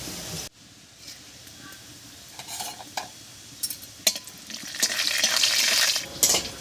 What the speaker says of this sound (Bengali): তেল গরম হয়ে গেছে এবারে তেলের মধ্যে দেবো এক চামচ মতো গোটা জিরা